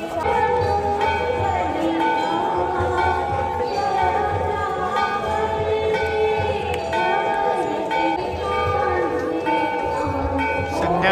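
Temple bell ringing continuously for the evening aarti at Kedarnath Temple in freezing weather, its sustained metallic tones layered over a steady crowd murmur.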